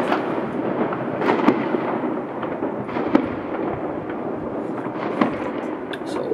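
New Year fireworks and rockets bursting, a continuous crackling barrage with scattered sharper bangs, some near and loud, others distant, filling the whole stretch without pause.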